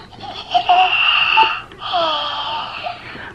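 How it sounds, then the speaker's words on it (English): A baby doll toy gives a drawn-out wheezy snore, two long breathy tones split by a brief pause, loud and close with nothing else over it. "She's actually snoring."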